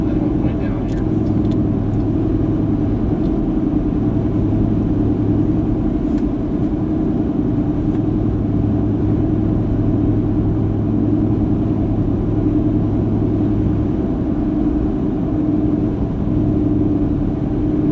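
A car cruising at about 60 mph on Route 50 while towing a trailer loaded with Wi-Fi gear and a TV, giving a steady, loud road and engine rumble throughout with a low drone and no pauses.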